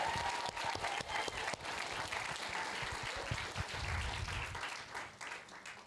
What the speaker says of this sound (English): So let's stop and give them a round of applause,